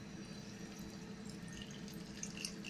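Water trickles and drips into a pressure cooker holding mango and sugar, a faint, continuous liquid pouring sound at low level with a few small splashes toward the end.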